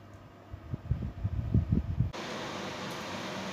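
An oven roasts a whole chicken standing upright, with a drip tray just below it. A few low, uneven rumbles come first, then a steady fan-like whoosh fills the rest.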